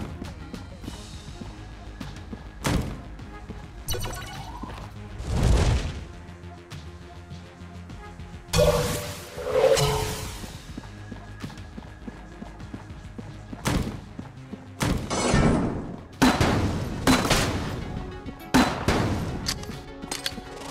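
A gun in the Enter the Gungeon video game fires grenades after reloading, giving a series of sharp booming blasts and thuds at irregular intervals with clattering between them.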